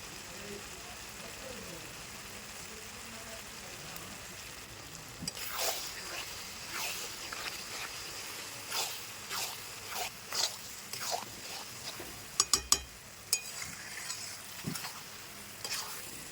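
Ground spices for a Bengali mutton curry fry in a pan and are stirred, giving a faint, continuous sizzle broken by irregular scraping strokes of a spoon and a few sharper clinks against the pan.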